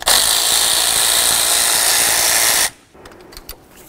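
A power tool removes the ignition coil mounting bolt on a 2002–08 Dodge RAM 1500, with a loud, continuous whirring buzz for almost three seconds that cuts off, leaving faint clicks and light handling noise.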